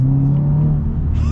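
Modified Subaru WRX VB pulling hard on a higher-speed road, a steady low engine drone with rising tone near the end of a brief, loud burst.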